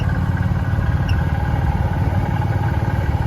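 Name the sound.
repowered antique tractor engine running at a show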